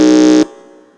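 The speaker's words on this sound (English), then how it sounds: "We want to do a very quick buzzer test before we proceed. The sound of your buzzer" Quiz contestant buzzer at a school quiz, one loud harsh electronic buzz lasting under half a second before cutting off sharply, heard alone.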